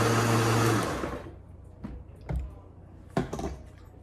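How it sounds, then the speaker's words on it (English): A blender whirs loudly as it grinds fresh ingredients, spices, oil and yogurt into a smooth lamb marinade paste. The roar lasts about a second, then cuts off, leaving a few soft knocks and clatters. "we're going to put all the fresh ingredients and all the spices, the oil, the yogurt, everything in the blender, and we're going to grind it to a smooth paste"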